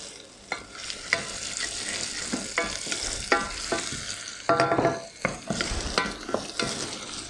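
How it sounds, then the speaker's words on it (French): Spatula stirring a vegan veggie burger mix in a frying pan, seasoned with pepper and salt: repeated scraping strokes over a steady sizzle, fairly close and loud, with no talking. "Ma petite spatule pour remuer le tout."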